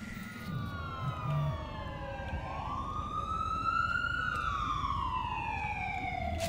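Fire engine sirens from the video game Watch Dogs 2, wailing with rising and falling sweeps, moderately loud over a low rumble of game ambience, no talk.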